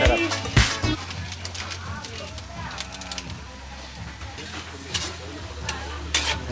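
Sliced ampalaya (bitter gourd) is stirred in a hot frying pan, with a steady close sizzle broken by scraping and clinking utensil strokes.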